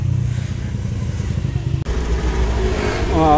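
A Honda Beat motorcycle engine, its EOT sensor just fixed, idles and revs close up. A loud steady engine drone is cut by a brief dropout, then climbs into a rising rev toward the end.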